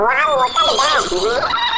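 A horse in a video game gives a loud, close whinny with wavering, rising and falling neighs across the whole stretch, under light speech.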